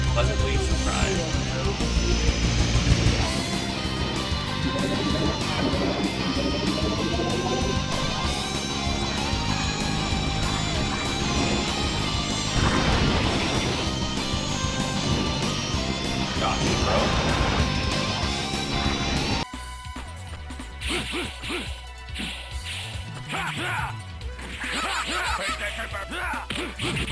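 The F-Zero racing game plays on an emulator, with continuous loud music and layered engine and effect sounds that shift abruptly to a sparser, different sound near the end.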